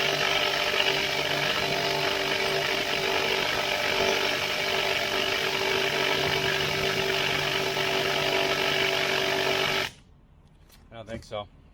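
An impact wrench hammers continuously and loudly on a very tight bolt during vehicle repairs, a steady buzzing rattle for about ten seconds before it cuts off, followed by a brief quiet voice.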